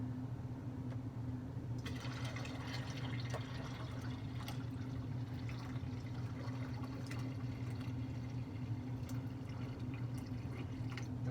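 Cold water runs steadily into a Mr Beer fermenter, rinsing out leftover American Porter extract, with a continuous watery rush over a low hum and faint splashing, no talking.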